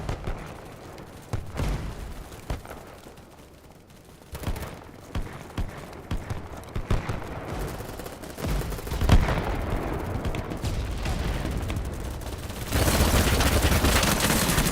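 Video game gunfire rattles in bursts, with sustained automatic fire and louder blasts toward the end, dense and loud with no talking.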